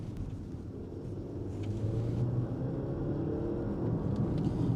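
Petrol engine of an Alfa Romeo Tonale 280bhp plug-in hybrid revs up under acceleration, a steady low drone that builds slightly in loudness and rumbles on with no talk.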